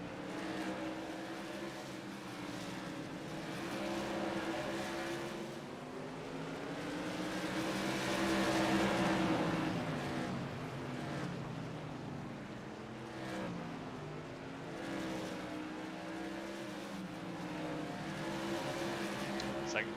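Tour modified race cars race at the Bullring, their engines roaring loud and continuous, rising and falling as they pass through traffic, with a voice commentating over them.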